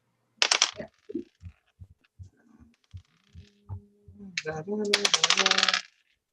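Playing cards being handled during a card game: a series of separate light taps and flicks, then a dense, fluttering riffle as the deck is shuffled, close by.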